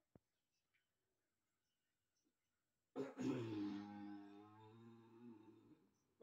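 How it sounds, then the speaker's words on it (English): A single harsh cough or throat-clear bursts out after a few seconds of near silence, close and fairly loud, trailing into a brief voiced rasp, recorded during a Subnautica gameplay session. "I needed a cough."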